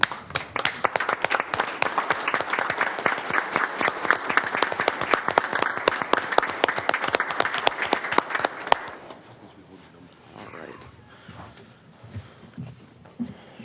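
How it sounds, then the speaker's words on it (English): A council meeting audience applauds in a standing ovation, loud, dense clapping for about nine seconds before it fades into quieter room noise. "giving you a round of applause for all your service"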